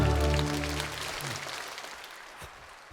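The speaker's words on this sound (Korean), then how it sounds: "하나님께 감사의 박수합니다." A church congregation claps in thanks to God during a sermon. The applause is soft and diffuse and dies away over a few seconds, with a low sustained tone at the start.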